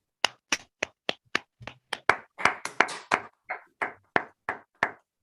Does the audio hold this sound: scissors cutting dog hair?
no